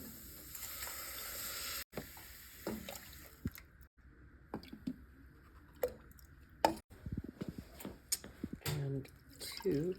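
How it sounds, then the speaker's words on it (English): Tomato juice and milk go into a soup pot of thickened creamy tomato soup base, with wet splashes, drips and plops over a soft hiss, fairly quiet and irregular. "now I'm going to add in the tomato juice and the milk"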